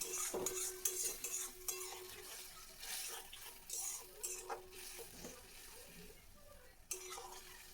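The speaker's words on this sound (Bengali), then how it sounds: "আমি অল্প অল্প করে গরম জল দিচ্ছি আর এটাকে ভেজে নিচ্ছি" Spices fry and stir in a pan as small splashes of hot water go in, with soft sizzling, scraping of a utensil and occasional clinks, quiet and close.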